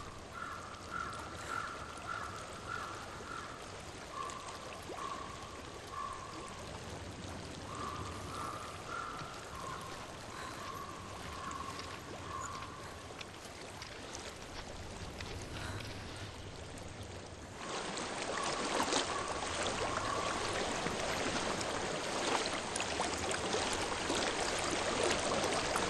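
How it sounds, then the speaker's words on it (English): Steady flowing water from a stream in Hellblade: Senua's Sacrifice, a constant broadband wash that turns louder and fuller about two-thirds through, with faint tonal ambient chimes drifting over it and no talking. "I hear water."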